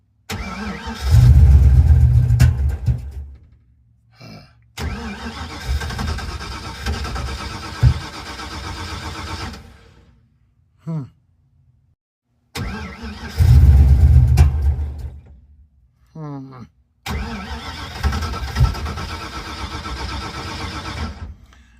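A car engine fitted with an Edelbrock 1405 carburetor and manual choke cranks, catches and revs in loud close bursts, dropping out between attempts before firing again and revving up.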